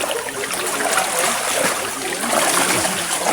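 Clear mountain water flows and trickles at a waterfall, a continuous bright rushing wash with small splashes, steady and fairly close, with no voices.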